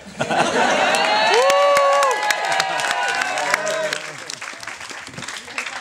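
Wedding guests cheer and applaud during a speech: a loud, sustained burst of clapping with whoops and shouts from a crowd in a reception room, easing off but continuing to the end.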